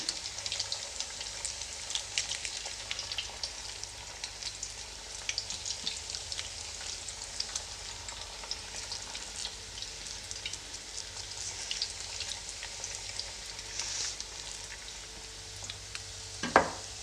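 Bread and onion pakoda batter deep frying in hot oil, a steady dense crackling sizzle throughout with a brief sharp clatter near the end, no voices.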